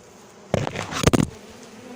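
Honeybees buzz loudly and close up while a colony is moved into a new hive, a short dense burst of droning wings that rises and fades within about a second.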